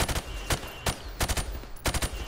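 Rapid bursts of gunfire at pop-up targets in the shooting range of the video game Modern Warfare Remastered, about six loud, sharp volleys spaced across the moment with short gaps between them.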